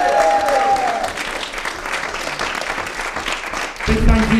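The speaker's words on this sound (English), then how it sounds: "Big round of applause. Come on." Audience at a live global concert broadcast clapping steadily, a dense, continuous wash of applause that holds at full strength for the whole stretch, with a brief musical tone near the start and again at the end.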